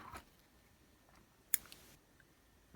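Scissors snip yarn off a finished crocheted blanket square: a sharp, close single cut stands out against quiet, faint room sound, with a few soft handling clicks around it.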